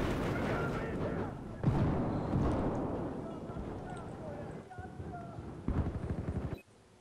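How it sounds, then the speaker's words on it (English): Grenade blasts and heavy gunfire roar through a team deathmatch on the Hainan Resort map in Battlefield 4, a dense continuous barrage with a few sharper bursts, a voice occasionally talking over it. "Oh my God, grenades!"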